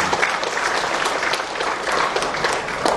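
Loud, dense applause from an audience at a book launch event, a sustained roar of many hands clapping close and steady for the whole stretch.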